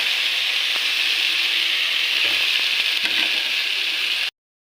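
Pieces of banana stem fry in a pan with a loud, dense, steady sizzle and a few faint scrapes. The sound stops abruptly, with no talking.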